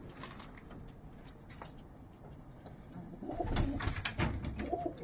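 Young pigeons coo softly inside a loft, low throaty calls repeating over a steady bed of faint rustling and shuffling, the cooing swelling louder and closer toward the end.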